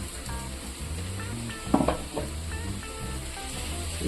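Chicken pieces fry in a pan with sautéed onions, giving a steady close sizzle with soft stirring scrapes and a brief utensil clatter partway through.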